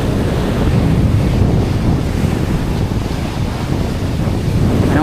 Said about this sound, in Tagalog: Medyo malaki ang alon.